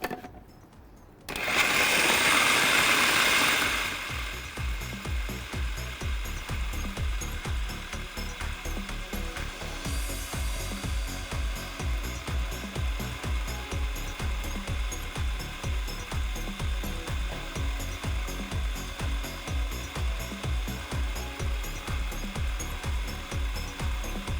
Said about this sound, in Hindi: ये सारी चीज़ें हमने डाल दी और इसे हमने मिक्स कर लेना है।